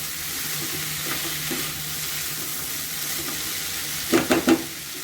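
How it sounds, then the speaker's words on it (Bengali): Prawns stir-fried in a pan with Malabar spinach (pui), a low, steady sizzle running throughout, then three quick clattering stirs close by near the end. "চিংড়ি মাছটা দিয়ে আবার কষাবো।"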